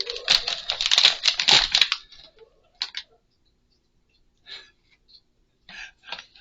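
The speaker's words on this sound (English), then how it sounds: "That's Lacey with the pump sprayer, if you could hear it" A burst of hissing spray lasting a couple of seconds, then a few short, fainter spritzes and clicks separated by quiet gaps.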